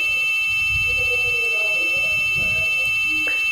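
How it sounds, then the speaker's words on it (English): A steady high-pitched electronic buzzer tone from an Arduino laser security alarm sounds continuously throughout, with some low rumbling movement underneath. "Again interrupting, so buzzer has started producing sound."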